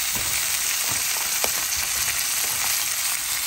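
A cinnamon stick and whole spices sizzle in hot oil in a pan while being stirred, a steady close crackling fry with small clicks and scrapes of the stirring spoon, no talking.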